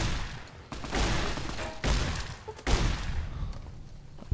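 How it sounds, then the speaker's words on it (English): Gunfire in the video game Fallout New Vegas, a series of loud close shots and booming bursts that repeat every second or so, each trailing into a rumbling decay, with no talk over it. "Ow, stop shooting me."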